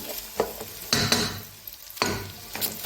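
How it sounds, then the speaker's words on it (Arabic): Rice frying in a pan for Egyptian-style fish rice, a crackling sizzle broken by scraping stirs, with bursts of louder frying between quieter moments. "الرز لازم يتحمر جامد قوي قوي"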